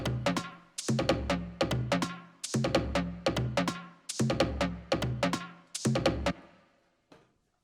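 Techno percussion loop played on a hand drum kit, a bright, punchy pattern of repeated hits in tight bursts that loops four times, then stops with a faint trailing tick.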